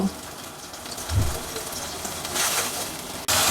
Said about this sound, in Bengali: আমি অল্প আঁচে একটু সময় নিয়ে মশলাটাকে কষিয়ে নিব